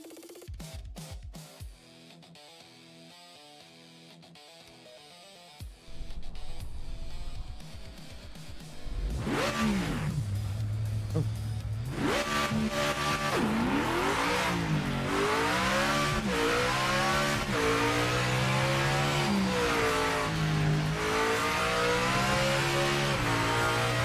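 A GT3 race car in the Project Motor Racing sim revs loudly, its engine note climbing and falling through repeated up- and downshifts, close and continuous after a quieter opening few seconds.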